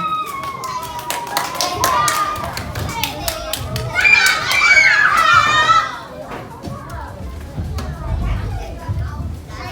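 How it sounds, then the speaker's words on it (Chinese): Children's voices fill the space while scattered hand claps ring out at the start, followed by excited chatter and squeals. "用老热的掌声欢迎第二组。"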